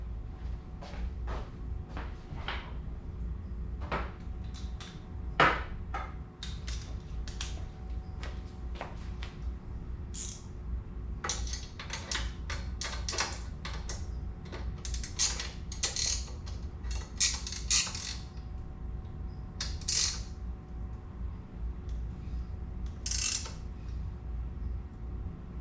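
Intermittent metallic ratcheting and tool clicks from bolts being tightened on a rear rack of a Triumph Scrambler 400X motorcycle, close, in short bursts over a steady low background hum.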